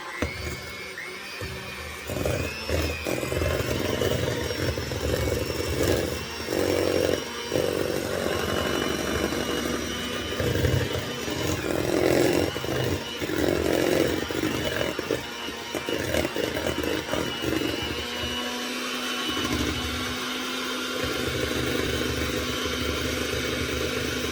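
An electric mixer creams butter, sugar and five eggs for a Nilla Wafer cake with a continuous loud, buzzing motor whine and uneven grinding and rattling throughout.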